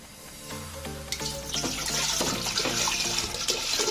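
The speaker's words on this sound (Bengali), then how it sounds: "পানি দিচ্ছি আমি" Water pours from a tap into a large cooking pot set on a gas stove, starting as a low hollow drumming and rising into a louder, splashing gush as the pot fills.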